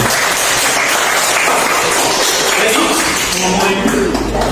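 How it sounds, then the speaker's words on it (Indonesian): Classroom audience applauding during a biology lesson, a dense steady wash of many hands clapping close by for several seconds. "silakan tepuk tangan untuk ini"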